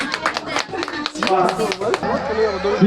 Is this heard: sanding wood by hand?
no